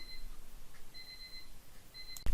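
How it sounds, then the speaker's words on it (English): An electronic alarm clock beeps in repeated high, thin bursts, fairly faint against a quiet room, ending with a short loud clunk. "I got an alarm going off."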